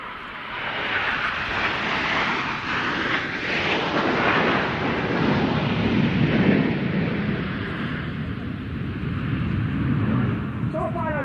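An Aermacchi MB-339 Italian jet flies past at an airshow, a loud, sustained roaring jet rumble that swells and then slowly fades while a commentator talks over it.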